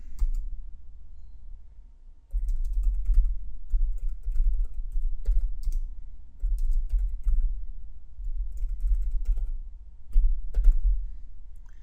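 Typing on a computer keyboard while writing a command in the Stata program editor: steady, soft, close key clicks in irregular bursts over a low background hum, with no talking.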